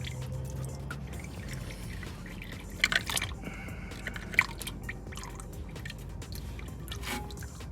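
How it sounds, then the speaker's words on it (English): Transmission fluid from a BMW E90 M3 DCT gearbox drips into a drain pan, faint irregular wet plinks and a few sharper splashes over a quiet garage hum, with no talking. "It's dripping into my pan now."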